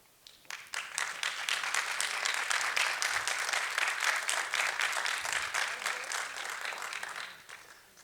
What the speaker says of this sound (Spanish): más fuerte el aplauso por estas interesantes exposiciones